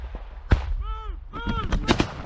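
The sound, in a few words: gunfire, cover fire during assault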